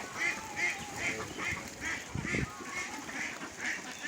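Khaki Campbell ducks quack repeatedly in a steady rhythm, a flock close by on a duck farm, with a brief low rumble partway through and no talking.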